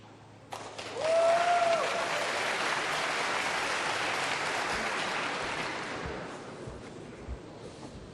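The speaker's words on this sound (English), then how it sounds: "You can hear the applause from the audience." Audience applause swells and holds for several seconds from a neighbouring table at a snooker championship, heard at a distance, then slowly fades away.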